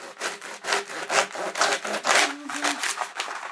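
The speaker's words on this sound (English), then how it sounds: "there's only crunchy broken noodles in there because I sawed through them" Saw blade rasping through a packaged cup of dry, crunchy noodles in steady back-and-forth strokes, close and fairly loud, with a brief brittle crackle partway through and no talking.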